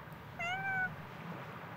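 A single short, clear cat meow in the underwater game ABZU, rising then falling, heard alone over a soft ambient background hum.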